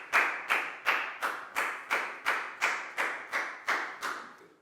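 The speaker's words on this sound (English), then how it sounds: "a big round of applause for Pat" A Year 4 class claps in unison during a maths lesson, about eleven sharp, evenly spaced claps in a steady rhythm.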